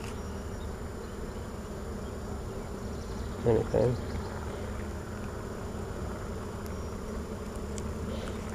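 Honey bees swarm a frame during a morning hive inspection, a soft continuous buzz hanging in the background while a voice breaks in briefly near the middle.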